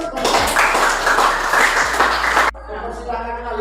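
Classroom clapping, a dense burst of many hands clapping together for about two seconds that stops abruptly, followed by a voice speaking.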